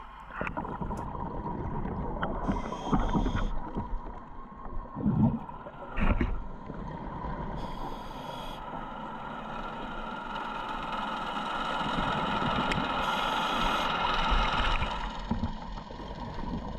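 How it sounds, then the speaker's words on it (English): A muffled, steady dive boat engine heard underwater while scallop diving off Guernsey, with bubbly gurgles and occasional knocks over a continuous low rumble. "These noises you can hear in the background are actually the dive boat above us"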